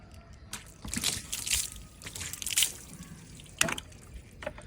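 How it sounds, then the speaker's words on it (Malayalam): Water poured in a few short splashing bursts, with trickles and drips between them, quiet and close by. "ഇതിലേക്ക് വെള്ളം ഒഴിക്കാൻ പോകും കേട്ടോ"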